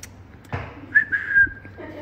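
A brief, faint whistle with a couple of short rising notes, preceded by a soft thump and light background noise.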